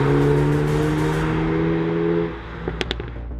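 Hyundai i30N hot hatch on the Nurburgring track, a loud engine drone that holds steady then drops off as the car lifts, followed by a few sharp mechanical pops and clicks.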